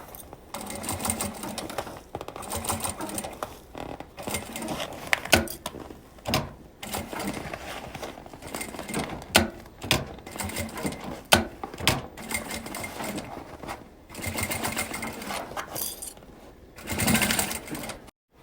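Sewing machine stitching a fabric pouch with a half-centimetre seam allowance, running in repeated short bursts separated by brief pauses, close and clear, with no talking.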